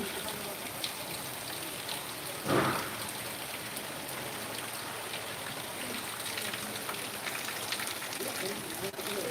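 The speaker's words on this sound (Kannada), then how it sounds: "ಮಳೆ ಕಾಣ್ತಾ ಇದೆ ನೋಡಿ" Steady night rain falls under high-mast lights in Karnataka, the day after Diwali, in a continuous hiss with dense patter, and one brief louder splash or knock partway through.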